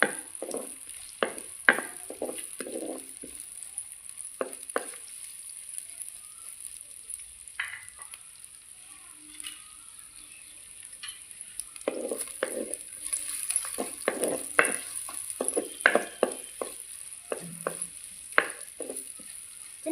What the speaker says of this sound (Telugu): ఒక ఐదు నిమిషాలు నూనెలో వల్ల వల్ల కాగానే తీసుకోవాలి